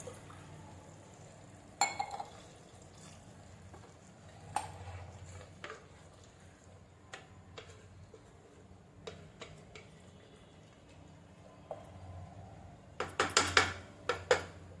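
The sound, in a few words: water poured over rice in a pressure cooker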